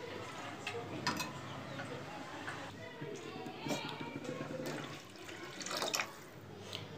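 Water poured into a pot of bangda (mackerel) fish curry, a soft continuous splashing and trickling that runs for several seconds, close and fairly quiet, with a few faint clinks.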